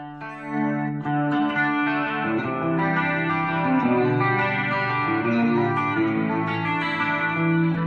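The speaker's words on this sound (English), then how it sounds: "So if you want to hear a flanger, here's a flanger." An electric guitar plays sustained chords through a Fender Super Champ X2 amp's flanger effect, sweeping and swirling, steady and loud with a jet-like shimmer.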